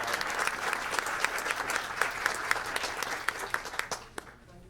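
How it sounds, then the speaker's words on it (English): Audience at a school board meeting applauds with a sustained round of clapping that fills the room, then fades out at the end. "How about one more round of applause for Rodeo Palms?"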